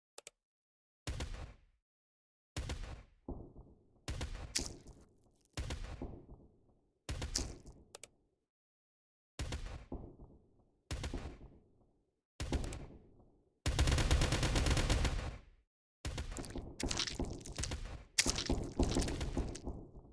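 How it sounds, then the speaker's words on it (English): Mortar cannon fire in a tower defense video game: a series of sharp, separate booming shots at irregular intervals, some closely spaced, with a denser rumbling burst midway and no voices. "The cannon fire for the multi-shot's a little weird"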